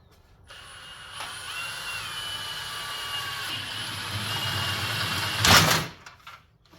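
A power drill whines steadily for several seconds at a fairly close range, then stops after a brief louder rattle, while building a DIY roof rack for a Jeep Wrangler TJ.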